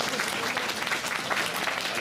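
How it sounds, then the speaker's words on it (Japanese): An audience at Tokyo DisneySea's Turtle Talk show breaks into applause, a dense, continuous patter of many hands clapping at a steady, moderate level, with some voices mixed in beneath. "みんなも拍手を送ろうぜ。"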